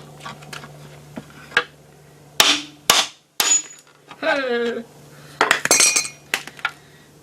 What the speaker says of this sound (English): Maybe it'll go the rest of the way by hitting it out.